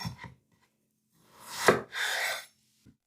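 A knife slices through a small half eggplant on a cutting board. Two short taps come first, then a louder rasping cut in two strokes, and a light knock follows. The sounds are close and quiet, with no talking.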